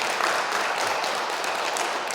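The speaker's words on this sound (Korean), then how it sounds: "박수" An audience at a parish parenting lecture in a Catholic church in Seongnam gives brief, dense applause, with even, continuous clapping throughout and no voices.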